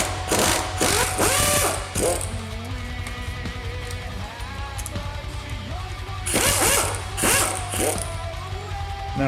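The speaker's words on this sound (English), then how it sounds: "So we're gonna go ahead and pull those three 10mm bolts off." A ratchet wrench loosens three 10mm bolts on an R32 GTR turbo cover, giving close, rapid clicking bursts with short pauses between them, louder at the start and again near the end.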